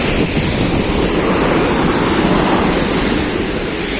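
Rainwater rushes past after heavy rain in a continuous, loud, broad roar, with wind buffeting the microphone throughout.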